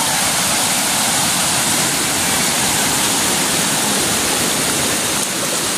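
Floodwater rushing past in a strong, continuous torrent, a loud broadband roar that stays steady and close throughout with no voices over it.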